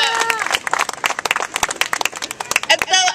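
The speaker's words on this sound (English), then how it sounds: "So one more round of applause for Diedra." A crowd at a veterans' speak-out event claps loudly and unevenly close by, with dense irregular hand claps mixed with cheering voices throughout.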